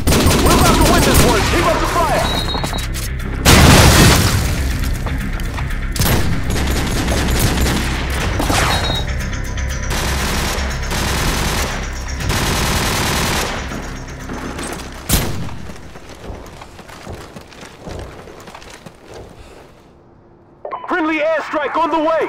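Heavy gunfire in a Call of Duty 4: Modern Warfare multiplayer match on PS3, dense overlapping bursts and booming blasts for most of the stretch with shouted voices in between, easing off before a final flurry.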